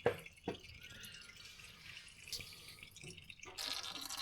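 Transmission oil drips slowly from the loosened sump of a BMW F Series ZF automatic gearbox during a fluid service, giving a few close, soft drips and a light trickling pour with no talk.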